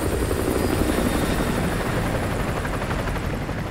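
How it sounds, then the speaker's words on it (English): An enemy helicopter patrols in Modern Warfare 2, its steady rotor thrum and engine whine holding loud and close for the whole stretch, with no voices over it. "Enemy helo patrolling the perimeter."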